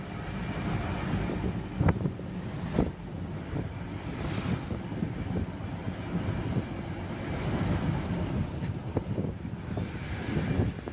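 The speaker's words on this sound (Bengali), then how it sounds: "একবার রাত্রের মতন ব্যাপক বাতাস ছাড়ছে।" Strong wind roars steadily and buffets the microphone on the Brahmaputra river, with a broad rushing noise like surf beneath it and no voices.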